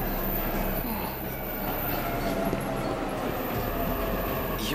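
A train idles at a station platform in the video game 13 Sentinels: Aegis Rim, with a steady, moderately loud rail rumble and hum running throughout, no voices.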